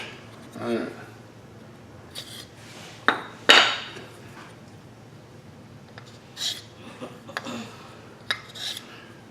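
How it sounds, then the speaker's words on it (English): A marking gauge scribes the ends of wooden blanks, giving a few sharp wooden taps and brief scraping strokes at close range, separated by quiet pauses. "So I set a marking gauge to 1/2 inch and just mark the ends"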